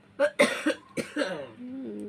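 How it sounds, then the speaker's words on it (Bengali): Several harsh coughs from someone with a cold, close up and loud in an uneven burst of four or five, ending in a short strained vocal sound. "আমার কাশি হচ্ছে ঠান্ডায় সবার অবস্থা বেহাল"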